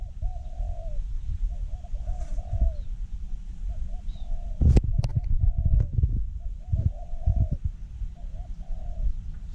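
Spotted dove cooing in a repeated, mellow rhythm, rising over steady low rumble and outdoor background noise. A few sharp clicks and knocks cut in partway through, and a voice speaks faintly at moments.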